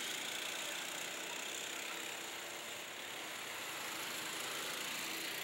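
A racing go-kart engine at a fan championship kart heat holds a steady, dense buzzing drone throughout, loud and continuous with no talk over it.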